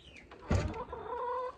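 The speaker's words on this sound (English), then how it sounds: "This is my original Rhode Island Red" A Rhode Island Red hen clucks close by, with one soft burst of clucking followed by a drawn-out, wavering call, fairly quiet against a faint outdoor background.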